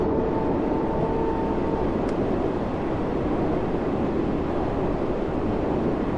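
Class 484 electric train running on the Island Line in Train Sim World 2, a steady broadband rumble with faint whine, constant and unbroken throughout.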